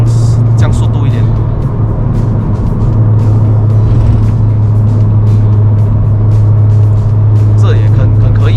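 A tuned VW Passat B8 1.8TSI making about 360 whp, driven on a road in Malaysia: a steady, loud low engine drone and road roar with continuous cabin noise, while people talk over it.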